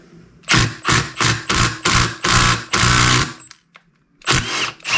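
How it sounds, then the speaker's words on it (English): A power tool with an Allen (H6) bit spins out the injector hold-down bolt on a Duramax diesel engine, several short loud whirring bursts followed by a longer run and a final burst, close, with no talk. "H6 bolt is holding the injector down in place there, so I'm going to go ahead and remove that."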